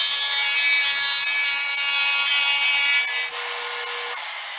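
A table saw blade runs through wood, cutting a quarter-inch-wide notch three-eighths deep in upcycled wood for a storage box, giving a loud, steady high whine that drops slightly in level near the end.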